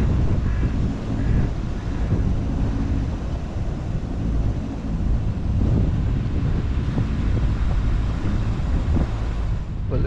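Wind buffets a microphone on a boat on the Norfolk Broads, a steady low rumble with gusty swells and a faint engine hum underneath, with no voices.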